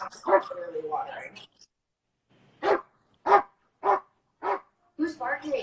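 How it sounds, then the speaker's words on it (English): A dog gives a run of five sharp, evenly spaced barks close by, set between stretches of people talking in a room. "Who's he barking at?"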